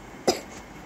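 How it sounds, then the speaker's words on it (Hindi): A woman lets out a single short, sharp cough close to the microphone, then quiet follows. "इतनी खांसी हो रही है ना मुझे"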